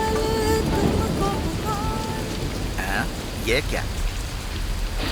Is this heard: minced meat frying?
no